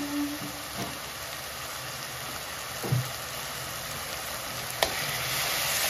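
Spices, including chili powder and turmeric, frying in hot oil for a Bengali fish curry, a soft steady sizzle with a few light clinks and scrapes, no talk.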